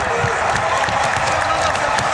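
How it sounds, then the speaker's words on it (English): Piped-in crowd noise fills a basketball arena in a steady, dense wash of cheering and applause-like roar, loud and continuous for a couple of seconds. "Above average piped in crowd noise here, Pat"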